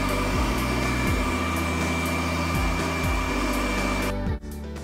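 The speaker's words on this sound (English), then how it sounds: "And then I blow dry the hair once again on a low setting." A hair dryer on a low setting blows steadily close by, drying a doll's hair with an even whirring hum. It cuts off abruptly near the end.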